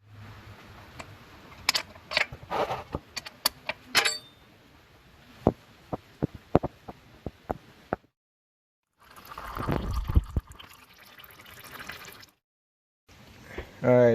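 Transmission oil drains from a 2009 Polaris Sportsman 400: scattered tool clicks and clinks, then a few seconds of steady pouring trickle, with quiet gaps between.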